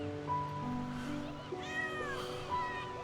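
A kitten meows several times in short, high, rising cries, fairly close and soft, over a quiet indoor background with faint low hum.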